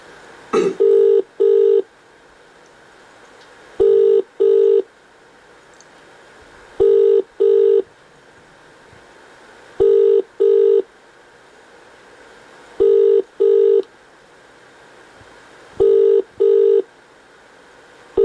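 Telephone ringback tone on a call to a number, steady double rings repeating in regular pairs about every three seconds, loud and clear with no talking over them.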